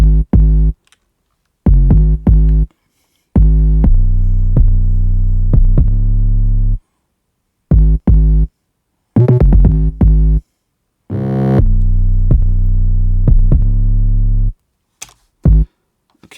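A trap-style 808 bass line plays deep sustained bass notes in short and long bursts, some with a reversed swell, separated by clean silent gaps. The phrasing is loud and rhythmic, with no talking.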